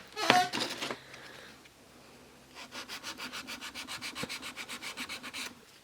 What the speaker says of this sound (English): when my nail is totally dry, I'm going to remove the form, and I'm going to start filing it